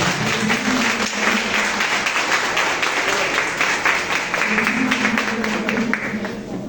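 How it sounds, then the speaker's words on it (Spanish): A church congregation claps and applauds during a Spanish-language service, a dense, steady patter of hands filling the room for several seconds, with some voices mixed in. "Dale un aplauso al Señor."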